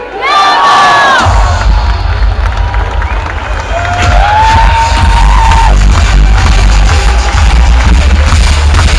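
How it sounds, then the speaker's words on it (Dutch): A large fan-day crowd at Club Brugge cheers and shouts loudly for the coach, a dense sustained roar with a brief whistle-like tone near the start and a rumbling low end throughout. "geef hem een geweldig applaus"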